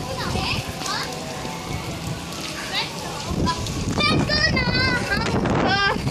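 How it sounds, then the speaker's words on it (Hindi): Heavy rain pours down steadily in an outdoor downpour with a constant loud hiss, while adults and children talk over it throughout. "देख सकते हैं हमारे तेज़ बारिश और शुरू हो गई है"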